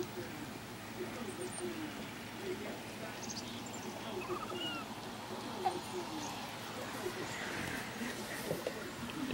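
A cat gives soft chirping, bird-like trills and faint meows at moderate distance, scattered through a quiet room while a person speaks intermittently over it.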